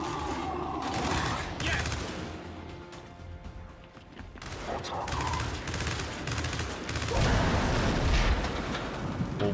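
Dense bursts of rapid gunfire and booming blasts in the video game Gears 5, continuous and loud throughout with a voice occasionally talking over it.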